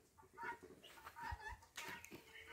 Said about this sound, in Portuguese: Tem que arrumar uma fêmea pra esse peru aqui.